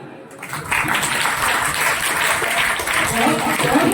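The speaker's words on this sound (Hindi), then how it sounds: "ताली बजाएं" Applause from an audience at an educational gathering for madrasa teachers and students, a broad, steady patter of many clapping hands swelling after a quiet start and continuing evenly, with voices likely mixed in.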